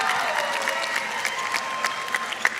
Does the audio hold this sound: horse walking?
no